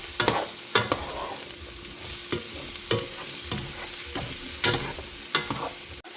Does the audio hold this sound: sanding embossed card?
no